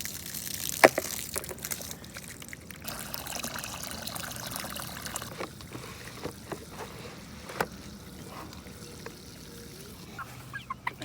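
Water trickles and pours into an old-style chicken waterer on a homestead, a faint splashing heard amid the soft clucking of nearby chickens and a few scattered knocks and handling noises.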